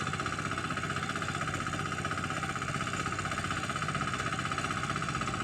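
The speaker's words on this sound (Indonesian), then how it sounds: "Itu mesinnya jalan ya" A rice transplanter's engine runs steadily through the whole stretch, a constant mid-pitched mechanical drone with vibration and no pauses. It sounds fairly near, with no talking over it.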